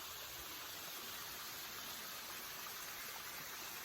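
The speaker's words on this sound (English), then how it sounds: "So I just came across my first waterfall here." Waterfall beside a mountain backpacking trail, a steady broadband rush of falling water filling the whole clip, soft and constant with no voices.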